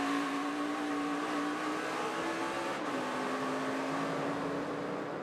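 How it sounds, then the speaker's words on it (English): A stock car restarting at the Kentucky 300 race accelerates with a steady engine drone whose pitch climbs, dips and rises again as it upshifts. The sound is continuous and moderately loud, with no voices. "Sounded like he had a little wheel spin."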